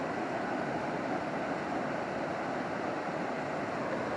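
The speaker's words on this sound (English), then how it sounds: "And then you also have the water wheel here," At Warwick Castle, a water wheel churns through water, giving a steady, dense rushing and splashing wash with no pauses, close and moderately loud.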